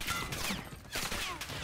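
Gunfire from a shooter video game comes as a few rapid bursts of shots, moderately faint and slightly distant, separated by short lulls.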